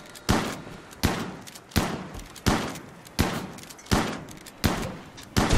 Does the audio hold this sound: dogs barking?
no